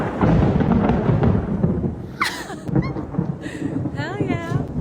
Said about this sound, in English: It's like my first respectable lightning storm here